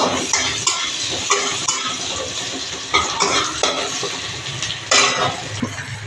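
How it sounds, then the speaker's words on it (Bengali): Onions sizzle in hot oil while a utensil scrapes and clinks against the pan in repeated stirring strokes. "তেলেতে দিলাম পেঁয়াজ,"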